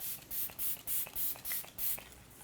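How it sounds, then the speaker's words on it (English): Six quick, evenly spaced hissing spritzes of e.l.f. makeup setting spray, close and soft, each a short airy burst with brief pauses between. "set it with a setting spray, which is what I'm gonna do"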